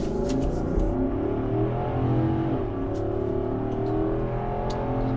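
A Nissan Armada SUV with a 400-horsepower engine accelerating from inside the cabin: a smooth, rising engine hum and whir building steadily under faint road noise, with no talk.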